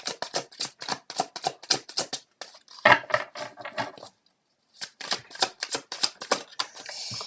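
A deck of tarot cards is shuffled by hand in quick, rhythmic flicks and slaps, close and clear. After a short silent pause the brisk shuffling starts again.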